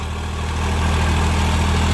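A Sonalika DI 745 tractor, 2024 model, idles close by with a steady, deep diesel rumble and a constant throb, no voices over it.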